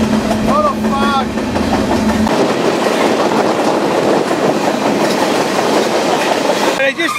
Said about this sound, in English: I just jumped off the train.